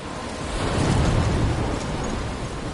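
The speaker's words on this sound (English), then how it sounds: "I'm trapped in a storm?" A steady, dense roar of storm wind and heavy rain in the video game Life is Strange, loud and unbroken with a slight swell in the middle and no distinct thunder crack.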